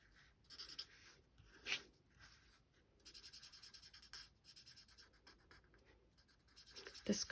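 Markers colouring a flower on paper for a handmade card, soft scratchy strokes in quick irregular bursts with short pauses, very quiet and close with no talking.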